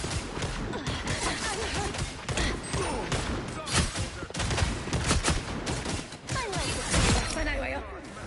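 Rapid turret gunfire in a Psylocke match of a hero shooter, dense and continuous at close range, layered with crashes and impacts, with voices talking over it.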